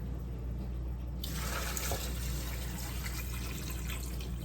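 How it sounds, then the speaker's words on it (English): Tap water gushes into a cooking pot holding cut-up pieces for boiling, starting abruptly after a second of quiet and then running as a steady, close splashing rush. "Now I'm going to add some water."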